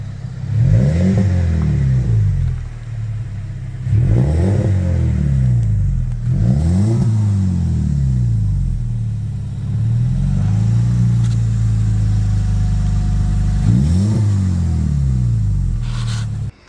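The engine of a BMW 1 Series fitted with a Toyota Supra exhaust box idles with a deep burble and is blipped to a rising rev several times in a row, loud and close, with short gaps between the bursts.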